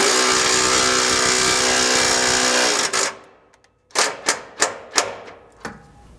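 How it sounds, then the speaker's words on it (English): A compact impact wrench drives bolts while installing a transfer case skid plate on a 2022 Toyota Tundra: a steady loud whirring run, then a pause and four or five sharp rattling bursts nearby. "have a compact impact like I have here, that works pretty well"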